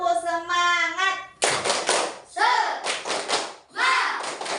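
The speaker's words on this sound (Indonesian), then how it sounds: "Tepuk semangat." Schoolchildren in an Indonesian classroom perform a 'tepuk semangat' clapping chant. A chanted voice comes first, followed by bursts of rhythmic hand claps mixed with children's voices, loud and close.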